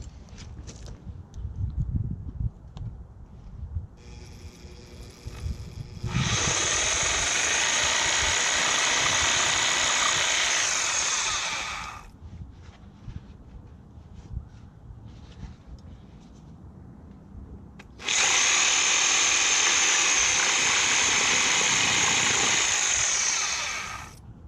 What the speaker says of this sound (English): So we'll just go ahead and Sawzall this down to where it needs to be.